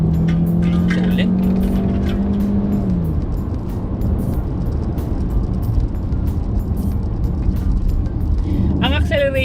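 A 2023 Jetour X70 Plus SUV pulls away smoothly on the road, its engine note rising steadily and loud from start to finish, while a person talks over it throughout.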